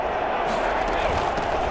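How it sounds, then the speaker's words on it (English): Crowd noise in the Dome during a football video game: a dense, continuous roar of a stadium audience, loud and steady, with some talk mixed in. "The crowd here in the Dome making things difficult."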